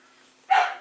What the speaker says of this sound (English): you're going to have to excuse the dog next door